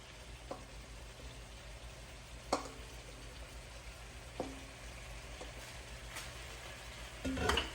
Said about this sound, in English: we're going to continue to stir until our shrimp is at that nice color that we're looking for